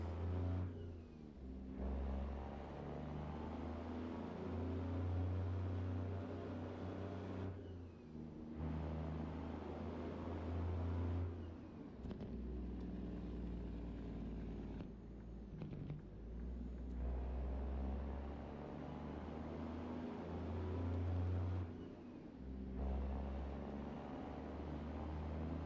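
A semi truck's engine in American Truck Simulator, a cold engine running as a steady low drone with several rises in revs and brief dips between gear changes, loud and close throughout with no talk.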